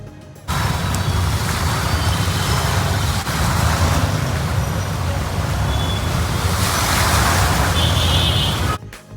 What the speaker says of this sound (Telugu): మా ఫ్లాట్ నుండి రైల్వే స్టేషన్కి ఆటోలో వెళ్తున్నా